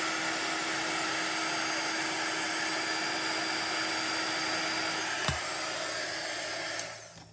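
A heat tool blows hot air across an embossed card surface, a loud steady whirring drone that continues throughout and cuts off near the end.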